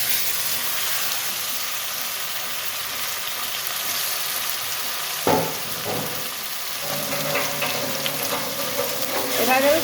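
Chili powder frying in mustard oil in a pan, a steady close hiss and sizzle running throughout, with brief stirring scrapes near the middle and a louder crackle toward the end.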